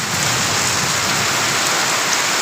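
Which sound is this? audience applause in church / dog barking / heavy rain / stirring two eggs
heavy rain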